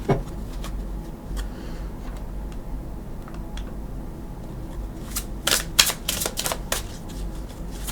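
Quiet room tone with scattered light ticks, then a quick cluster of crisp riffling bursts near the end as a deck of tarot cards is shuffled close by.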